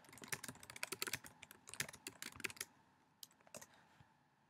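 Rapid typing on a computer keyboard, a dense run of close, crisp key clicks for about two and a half seconds, then a few scattered keystrokes, quiet and alone.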